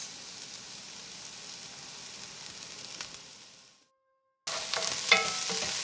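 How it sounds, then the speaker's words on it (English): Small pieces of garlic sizzle in oil at the start of a Sunday sauce, a soft steady fry that drops to silence for a moment, then returns brighter and louder with some crackle. "He's gonna drop those frail little pieces of garlic in there"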